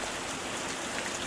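Steady rain falls in a dense, even hiss that stays constant throughout the clip, with no voices or other sounds over it.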